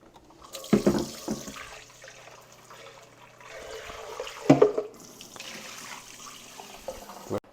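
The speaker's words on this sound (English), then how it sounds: "I'm just gonna rinse it off." Tap water runs steadily into a kitchen sink while a Vitamix blender part is rinsed, with splashing rising and falling over several seconds and brief clatters as the part is handled.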